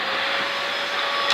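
A Dyson DC05 vacuum cleaner with a clogged filter runs with a steady, loud motor whine and airflow hiss, close by and unbroken, rising slightly at the very end.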